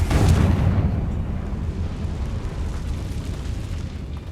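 A Confringo fire spell in the Hogwarts Legacy video game detonates in a loud booming explosion at the start, then fades into a long, rumbling crackle with no talking.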